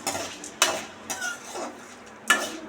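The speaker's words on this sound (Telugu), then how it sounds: "ఒక 1/2 టీ స్పూన్ వచ్చి జీలకర్ర వేసుకొని బాగా వేయించుకుందాం" Cumin seeds roast in a pan, with a few distinct scraping and clinking stir strokes of a utensil against the metal over a soft background sizzle, close and moderately loud, no speech.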